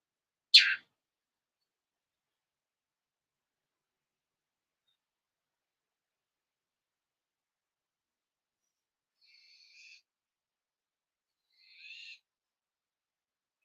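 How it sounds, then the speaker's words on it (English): One sharp, loud bird call cuts through near a porch, followed after a long silence by two faint, brief calls further off. "that bird sound a little aggressive, don't it?"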